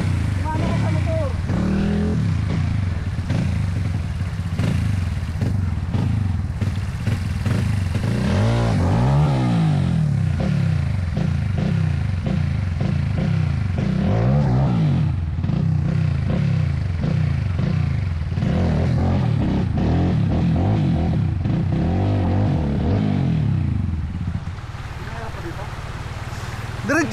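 A motorcycle engine rumbles and revs in repeated surges, loud and close, with clattering and people talking over it throughout.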